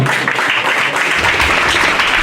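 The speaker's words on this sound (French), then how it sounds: "La candidate numéro 4, sous vos applaudissements, mesdames et messieurs" A crowd at a Miss and Mister beauty pageant applauds a contestant, a loud, steady wash of clapping filling the space from start to finish.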